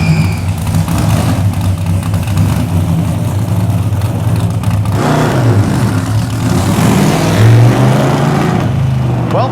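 A Hemi gasser car engine idling and revving hard in an alley during a clutch test, loud and close, with rising throttle blips and a deep rumbling tone throughout.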